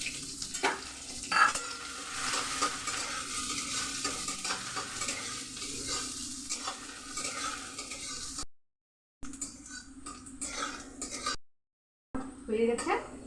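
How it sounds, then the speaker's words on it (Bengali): A whole onion, chopped fine, fries in hot oil for a soybean and potato curry. A loud, steady sizzle runs throughout, with stirring scrapes and a few clinks of utensil against pan, broken by short silent gaps. "এতে আমি কেটে রেখেছিলাম একটা গোটা পেঁয়াজ মিহি করে, সেটা আমি তেলে দিয়ে দিচ্ছি।"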